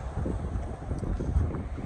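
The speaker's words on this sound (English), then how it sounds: "Pretty windy" Gusty wind buffets an outdoor microphone at a house self-build site, producing a continuous low rumbling roar with uneven surges and no speech.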